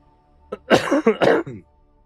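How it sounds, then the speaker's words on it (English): A single close, loud cough blasts straight into a microphone during a Destiny 2 PC game stream, with a short throaty burst followed by a rougher second push, then quiet. "I shouldn't have coughed right in the mic."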